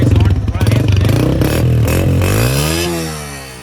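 A motorcycle engine revs up and down close by, its pitch rising and falling while a voice talks over it.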